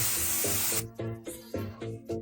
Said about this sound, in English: Anti-rust coating apply.